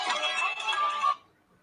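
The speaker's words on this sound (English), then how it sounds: "And then he gets a phone call." A phone ringtone sounds for an incoming call: a bright, steady electronic ring lasting about a second, fairly loud and close, then cutting off into quiet.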